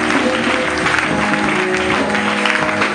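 A church congregation at a Sunday convention in Abidjan applauds steadily, a dense, even wash of clapping with cheering mixed in that holds at full loudness throughout.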